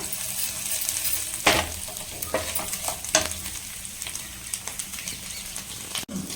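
Two chutneys, a green one made with karpuravalli leaves and a red one, are stirred and mixed together in a pan, with soft scraping strokes and light sizzling from start to end and a few sharper knocks.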